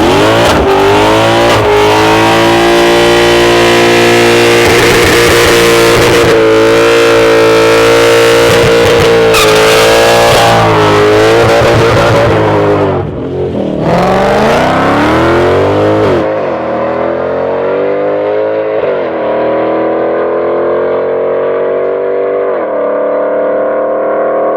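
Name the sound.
front-wheel-drive K-series drag car making a quarter-mile pass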